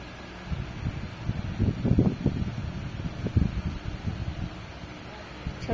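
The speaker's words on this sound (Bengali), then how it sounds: "কি সুন্দর প্রাকৃতিক হাওয়া দিচ্ছে" A natural outdoor breeze near coconut trees and small branches buffets the microphone in low, uneven gusts that swell and fade for several seconds, with no talking.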